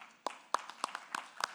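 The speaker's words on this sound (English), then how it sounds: "So a big round of applause for Prime." A handful of distinct hand claps, roughly six sharp separate slaps about a third of a second apart, fairly faint, from a small audience at a panel talk on visual effects.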